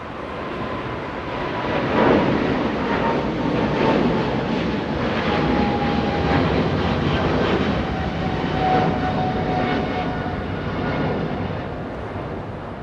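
A fifteen-year-old Japan Airlines Boeing 777 bound for Tokyo Narita takes off from Los Angeles International Airport, its engines giving a sustained broad roar that swells and stays steady, with faint whining tones threading through.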